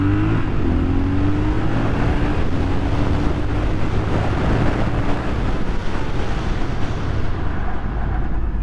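A 2023 Triumph Scrambler 1200XE motorcycle accelerating hard on a closed course, engine rising steadily under heavy wind rush, loud and continuous with no talk.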